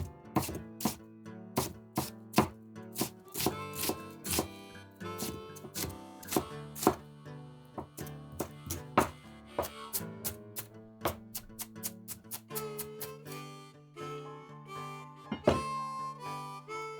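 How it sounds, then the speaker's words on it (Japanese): Half an onion being finely chopped with a knife for macaroni and cheese: a rapid, uneven run of crisp knife taps on a cutting board, close and clear, with short pauses between bursts and no talking. "玉ねぎ半個をみじん切り。"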